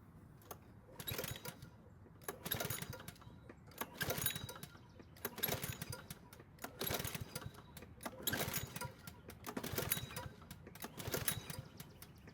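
A lawn mower's small engine is pulled repeatedly in a failed start attempt, giving about seven evenly spaced bursts of cranking clatter, each dying away without catching, close and moderately loud.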